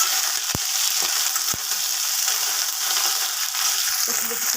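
Small fish frying in oil in a kadai, a steady close sizzle with a few sharp clicks and scrapes as the pieces are turned over, no talking.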